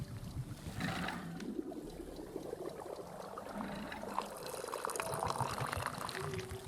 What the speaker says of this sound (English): I'm loving this perfect pour